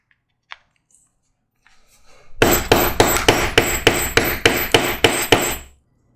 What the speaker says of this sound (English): you use a little tool to peen it over